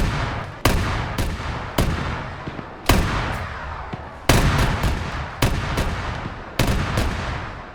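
Heavy gunfire strikes a BMP vehicle in a tank battle game, with repeated loud impact bursts every second or so, each decaying into a rumbling tail.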